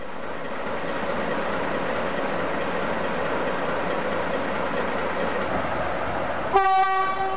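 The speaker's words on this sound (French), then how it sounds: "le passage de ce TGV en provenance de Perpignan" A TGV high-speed train from Perpignan rushes past with a loud, steady roar that stays constant throughout, then a sharp, loud horn blast sounds near the end.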